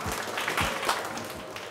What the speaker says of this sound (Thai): ผมขอเสียงปรบมือต้อนรับ